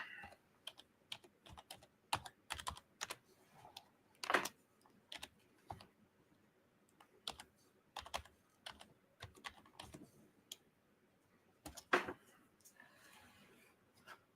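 Someone types on a computer keyboard at a workbench during a live build, producing irregular bursts of quick soft clicks and a few heavier key presses, close and quiet, with no talking.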